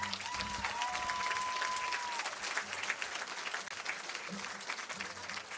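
Audience applause at a sports-related fieldhouse event, steady dense clapping throughout with a brief whistle-like tone early on, moderately loud and sustained.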